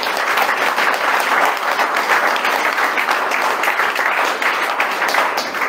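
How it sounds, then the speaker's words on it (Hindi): Audience applause in honor of the Indian Army at a network marketing seminar: dense, steady clapping from a large crowd, close and loud, holding evenly for several seconds with no voices. "एक बार इंडियन आर्मी के लिए तालियां हो जाए।"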